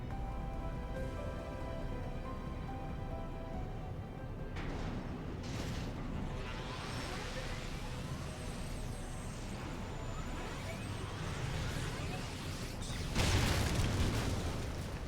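A Magitek armor in Final Fantasy XIV firing its weapons, heard as dense, continuous rumbling booms and mechanical blasts layered over a steady game soundtrack, with a louder burst near the end.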